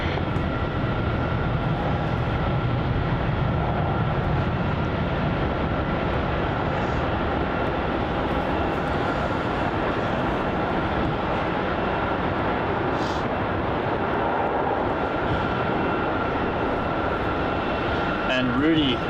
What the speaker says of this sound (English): Qantas 432, runway 27, cleared for takeoff